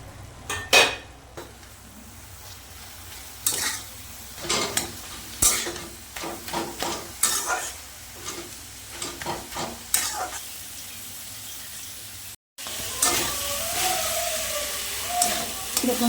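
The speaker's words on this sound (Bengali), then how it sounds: "শাকটা আমার ভালো করে একটু ভেটে নিয়েছি" Spinach stir-fries in a pan with a soft sizzle, punctuated by repeated scraping and knocking of a spatula against metal, then a brief pause before louder frying resumes alongside a voice.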